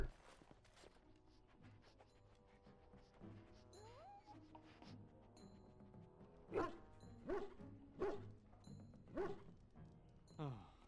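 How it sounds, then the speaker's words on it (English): A dog in Dragon Age: Origins gives a run of short, fairly faint barks and yips at a steady beat over low background music, with some talk. "Alright, let's see what my dog's getting into."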